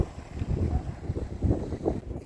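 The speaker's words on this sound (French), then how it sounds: "Il y a un vent de ouf." Strong wind batters the microphone in loud, low, fluctuating gusts, rumbling continuously and heard alone without talk.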